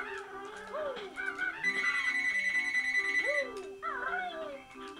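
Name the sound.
phone ringing in video game Banjo-Kazooie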